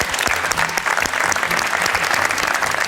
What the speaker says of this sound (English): So give yourself a big applause this time.